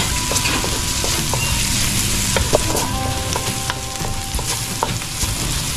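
Garlic frying in a pan for a mussel and shrimp tomato-sauce dish gives a loud, steady sizzle with scattered sharp clicks from stirring, with no talking.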